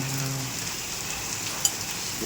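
A hailstorm with rain drums on surfaces in a steady close hiss, with one sharper hit standing out near the end and no talking.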